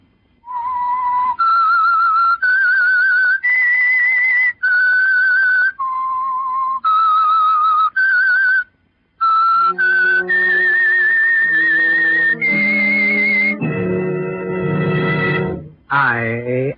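A clear, loud whistled theme tune for the radio drama The Whistler, sustained notes stepping up and down, alone, ending in a rising glide.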